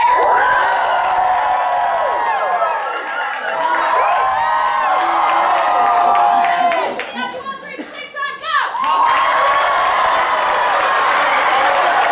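A matinee audience of children and adults at a Shrek movie screening cheers loudly, with whoops, shouts and clapping that swell, dip briefly and then surge again.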